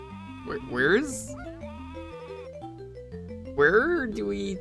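Two loud wavering sheep bleats in a video game over a steady synthesized melody, one early and one near the end.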